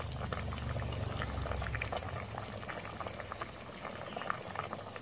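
Pea eggplants and red chilies go into a Northern Thai curry of fak khao gourd and grilled fish, with a steady, close bubbling boil and faint liquid splashes throughout.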